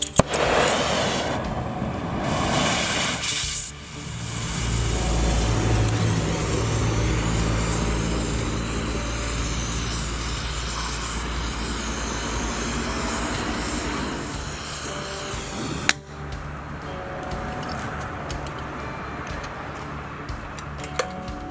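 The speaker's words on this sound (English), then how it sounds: "we're going to take the torch now and heat up this set screw" A torch heats a stuck set screw in a workshop build, a steady loud roaring hiss with a low rumble and a faint ticking running through it, changing character partway with a sharp click.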